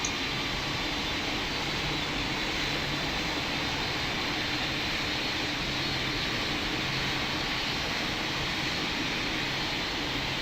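A simulated airliner takes off in the Pilot Training Flight Simulator game, its engines giving a steady, even jet roar that holds constant and moderately loud the whole way, with no voices.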